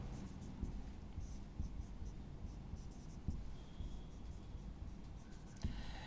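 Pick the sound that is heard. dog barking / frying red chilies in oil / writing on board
writing on board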